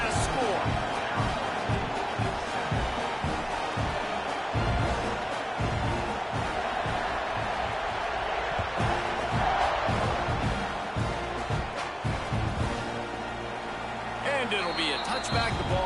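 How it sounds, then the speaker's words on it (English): A stadium crowd in the College Football 26 video game roars and buzzes steadily after a score, a dense continuous din with thumps of bands or stomping, under a commentator's voice. "this crowd is buzzing after that last score"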